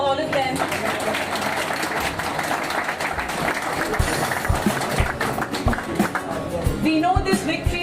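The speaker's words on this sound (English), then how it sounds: "A big round of applause for all of them." A crowd at a celebration for exam selections at an education center claps loudly and unevenly, with sharp individual hand claps standing out over the dense applause, while faint voices mix in underneath throughout.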